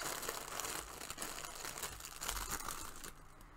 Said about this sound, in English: Please excuse all the rustling.